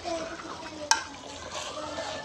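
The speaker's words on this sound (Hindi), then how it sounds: "मिक्स करेंगे चिकन को तुरी के साथ।" Chicken is stirred and fried with ridge gourd (tori) in a pan, a quiet sizzle under soft scraping, with one sharp clack of a spoon against the pan.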